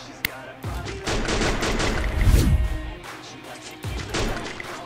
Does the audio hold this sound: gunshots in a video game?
yes